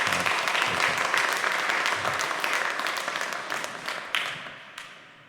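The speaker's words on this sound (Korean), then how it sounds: "우리 힘찬 박수로 환영하겠습니다" A church congregation at a Sunday service claps in welcome for a returning member, with full, continuous applause that slowly thins and softens toward the end.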